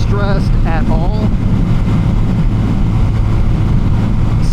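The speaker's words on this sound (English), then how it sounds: "55-ish miles per hour, this bike is extremely happy" A Honda Rebel 250 motorcycle cruising at about 55 mph, its steady engine drone buried under heavy, constant wind rush across the microphone, loud and continuous.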